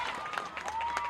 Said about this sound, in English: that gets some applause from the home crowd who love the effort nonetheless